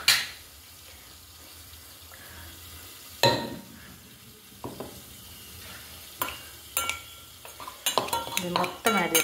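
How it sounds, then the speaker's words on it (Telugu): Mango pickle is stirred and mixed with spice powder in a bowl, giving intermittent scrapes and clinks of a utensil against the vessel that grow busier toward the end, with no talking. "దీన్ని ఒకసారి మిక్స్ చేసుకుందాము"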